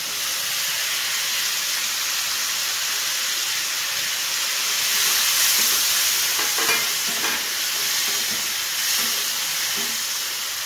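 Fried potatoes and spice paste sizzle in hot oil while loite fish curry is cooked, a steady, close hiss with faint stirring scrapes and occasional sharper crackles.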